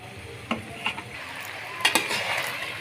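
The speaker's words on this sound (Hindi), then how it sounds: "अच्छे से आपने इसको मिक्स कर लेना है।" Macaroni gets mixed in a pan, with a few soft scrapes and clinks of a utensil over a faint low sizzle, quiet and close, no speech.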